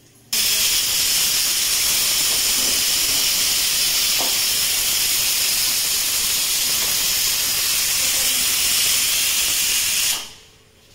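Potatoes drop into hot oil for tempering in a home kitchen, setting off a loud, steady sizzle that runs unbroken for about ten seconds before cutting off abruptly.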